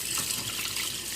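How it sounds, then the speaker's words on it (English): Cold water runs steadily from a kitchen tap over a turkey, a constant close hiss with no talk. "So again, run your water with cold water."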